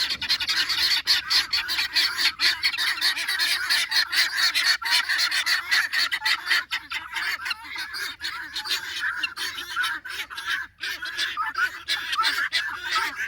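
A flock of geese honks continuously and loudly on remote rural land, with dense overlapping calls close by for the whole stretch.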